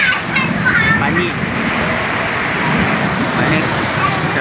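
Heavy monsoon rain pours in a loud, dense, unbroken roar, with a voice speaking faintly underneath.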